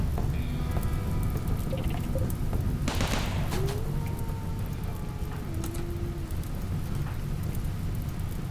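Steady rain pours down in the colony-building game Rimworld, a dense hissing wash with a low rumble beneath it, continuous and fairly loud throughout with no voices.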